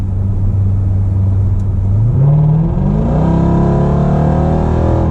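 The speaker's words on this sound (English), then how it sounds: "Listen to that exhaust." A Dodge Durango SRT Hellcat accelerates hard in sport mode with a loud, steady exhaust roar. The engine note climbs in pitch through a sustained pull, heard from inside the cabin with no talking.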